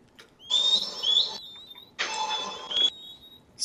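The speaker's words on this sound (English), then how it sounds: "Try whistling for him before we head out." In Red Dead Redemption, a player character gives two sharp whistles to call a horse, each about a second long, clear and close against a quiet background.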